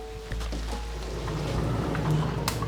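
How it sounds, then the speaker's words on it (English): Heavy rain pours down steadily, making a dense continuous hiss with a few sharper drops and splashes standing out, close by and fairly loud, with no voices. "that rain is really coming down now"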